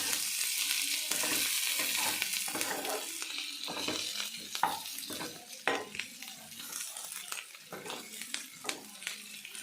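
Brinjals frying in a pan, a steady close sizzle of oil broken by frequent scraping stirs and light clinks of a utensil against the pan.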